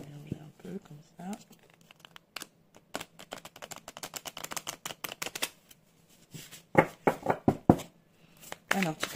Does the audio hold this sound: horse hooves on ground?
no